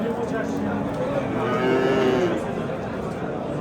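Cattle at the Shahidon livestock bazaar, where cows and heifers are traded, give a drawn-out moo near the middle over a steady murmur of the market crowd.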